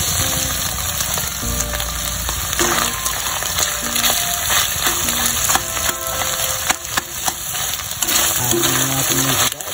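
Onions fry and sizzle loudly in a pot of Filipino pork menudo while a spoon stirs them, steady hissing broken by repeated clinks and scrapes against the metal.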